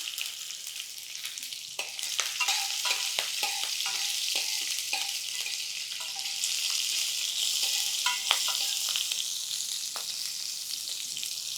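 Sesame seeds and green chillies crackle and pop in hot oil for a tempering, a dense spray of sharp little bursts up close with occasional stirring clinks and no talking.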